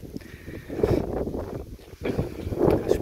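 Strong wind gusting across an open wasteland, roaring and buffeting the microphone in uneven surges that swell and ease over the short stretch.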